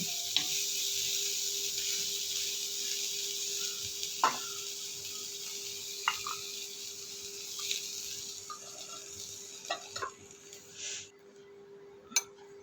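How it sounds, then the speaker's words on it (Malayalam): A steady sizzle of cluster bean stir-fry (kothamara upperi) in a pan, with occasional scraping and clinking taps of a spoon as it is stirred, fairly close and alone without talk. "നന്നായിട്ട് ഇളക്കുക ഇളക്കി മിക്സാക്കി കഴിഞ്ഞിട്ട് വാങ്ങാം"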